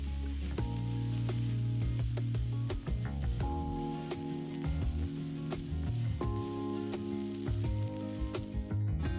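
Food dropped into a pan of frying onions gives a continuous, steady sizzle with background music playing over it.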